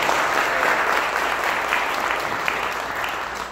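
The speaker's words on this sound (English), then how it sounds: "You really don't have to clap for us" An audience applauds steadily at the Buffalo Dreams 2017 awards ceremony, with dense, continuous clapping that fills the room and eases slightly toward the end, with no voice over it.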